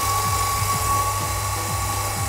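Air assist pump on a Neje Master 2S MAX laser engraver running steadily, a continuous close mechanical hum with a faint regular pulsing, alone without talk.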